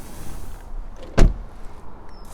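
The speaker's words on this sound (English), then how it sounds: "Opening up the driver's door now." The driver's door of a Ford Fiesta Active X mild hybrid opens with a single sharp mechanical clunk of the latch, close and clear over quiet background hiss.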